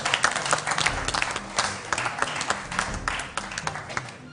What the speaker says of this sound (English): Put your hands together and welcome Abel Okpei